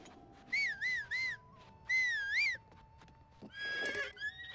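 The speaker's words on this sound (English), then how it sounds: "I'm just going to go down here and then whistle and see." Whistles calling a horse in The Legend of Zelda: Breath of the Wild, heard as a series of close, wavering game whistle tones, two then one more, followed by a horse's whinny at the end.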